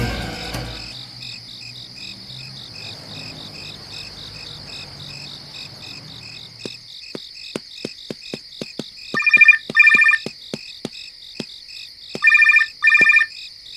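A telephone rings with an incoming call in a TV serial scene, a steady electronic trill over chirping insects, first alone and then in two louder bursts near the end, clear and close.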